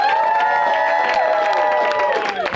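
A comedy club crowd at Bushwick Comedy Club cheers and shouts loudly on cue, with whoops and yells blending into a dense, continuous roar that lasts a couple of seconds.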